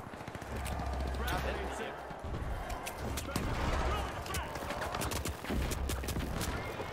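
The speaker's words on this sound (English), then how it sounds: "Who is shooting me and why?" Rapid gunfire in the shooter game The Finals rattles in bursts of sharp, repeated shots over a steady background of game noise, with a player talking now and then.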